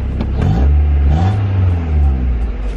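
An NA Mazda Miata's engine rumbles loudly close by, with a short rise in revs early on and then a steady low idle throughout.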